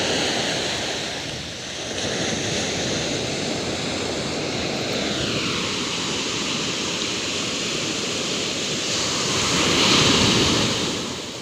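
Rough ocean surf crashing on the beach at La Union on a morning with no-swimming signs up, a loud, steady roar of breaking waves and wind noise that rises toward the end, with no voices.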